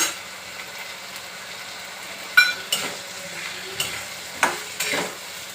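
Chickpeas and coconut pieces fry with potatoes in a pan under a soft, steady sizzle while a spatula stirs and scrapes in several distinct clinking strokes, close and unaccompanied by speech.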